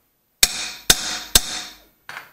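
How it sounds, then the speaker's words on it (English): Hammer tapping the transmission brake shoes on a Land Rover: three sharp metallic strikes in an even rhythm, each ringing briefly, followed after a pause by a softer fourth knock, close and loud. "So again, we get the hammer."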